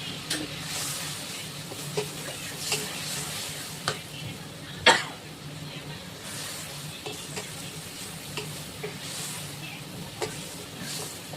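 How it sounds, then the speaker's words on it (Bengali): Curry with ground green chilli and salt is stirred and sautéed in a pan, with a continuous soft sizzle, scraping strokes and one sharper clank of the spoon midway, close and steady with no talk. "এটাকে আমি একটু ভালো করে কষাবো"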